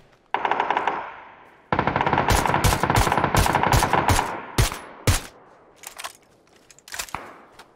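Rapid bursts of automatic gunfire from an enemy player in PUBG crackle loud and close, followed by a few scattered single shots with echoing tails.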